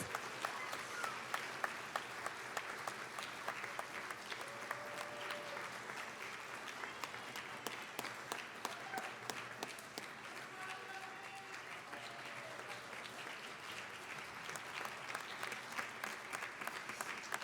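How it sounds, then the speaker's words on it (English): Long, steady round of applause from a concert audience for the stage hands of a choral production, sustained dense clapping with some faint voices mixed in. "Let's give a round of applause to our stage hands."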